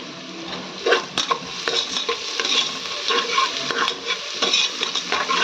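Stirring and frying in a pan with washed rice and chopped coriander leaves nearby: a steady close sizzle broken by scraping spoon strokes and soft clinks, no voices, continuing for several seconds.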